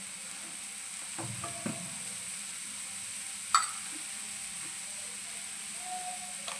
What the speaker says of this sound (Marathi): मस्त तीन चार मिनटं सुकट भाजून घेऊया चांगलं